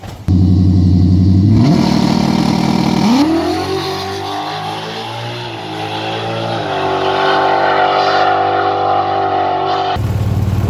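A loud drag race car engine drones close by, its pitch climbing and shifting as it drives slowly back to the pits, then rumbling steadily at a low idle.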